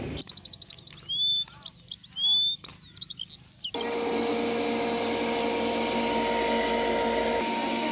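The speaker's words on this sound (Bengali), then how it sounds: "এখন এই মেশিনে নিয়ে যাব কুটতে, বেসন বানাতে।" Grain mill grinding mung dal and sun-dried atap rice into besan, a loud steady mechanical roar with a constant hum that starts abruptly partway through and runs on, after a stretch of chirping birds.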